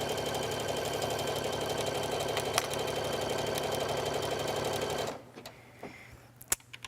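A sewing machine running a zigzag stitch on stretch fabric, a fast steady mechanical whirring and clatter that stops abruptly near the end, leaving faint small taps and clicks.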